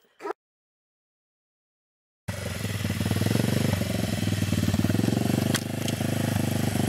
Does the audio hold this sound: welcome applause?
no